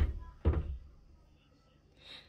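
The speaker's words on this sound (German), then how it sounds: "Hier ist auch eine Tür zum Zuziehen." A sliding door is pulled shut in a holiday apartment in Croatia: one muffled, fairly close thud, followed by quiet room tone and a faint soft hiss near the end.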